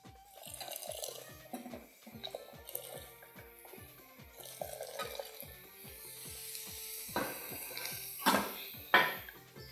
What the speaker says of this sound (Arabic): هزود هنا شويه ميه صغيرين